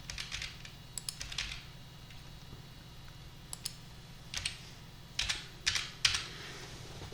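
Keys tapping on a computer keyboard in a quiet room, bursts of close, crisp keystrokes with short pauses between them while config values are edited on a Linux machine.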